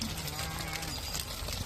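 A flock of sheep and lambs bleating on a farm, several overlapping bleats at middling distance over a steady outdoor background.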